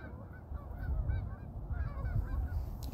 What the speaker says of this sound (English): You see the geese behind me?